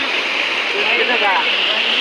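Steady rushing water fills the whole clip, a continuous broad roar of a river running full after monsoon rain.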